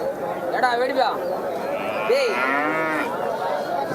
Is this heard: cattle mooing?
yes